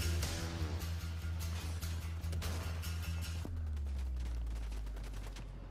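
Rapid bursts of automatic gunfire in the battle-royale game Fortnite, sharp repeated shots in quick rhythm over a low droning hum, loud and close, then giving way to a sustained rumble.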